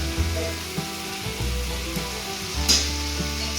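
Dried fish and taro stolons fry in a pan while being stirred, giving a steady close sizzle with soft scraping knocks from the spoon and a sharper clatter near the end.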